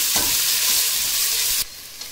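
Onions frying in oil with whole spices, a steady close sizzle with stirring scrapes, dropping suddenly quieter near the end.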